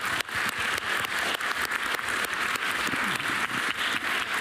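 A crowd at a work-themed gathering applauds with dense, sustained clapping that stays close and even throughout, with no voices breaking through.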